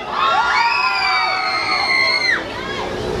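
Festival crowd at an outdoor South Asian mela in Luton cheering, whooping and shouting together in a loud, close burst that swells and then eases off.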